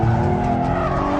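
A 2013 Hyundai Genesis Coupe slides with its tires skidding and squealing loudly and continuously at close range, engine droning underneath, with no talking.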